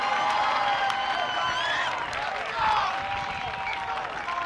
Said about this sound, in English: Let's give both of our teams a big round of applause for our sensational city championship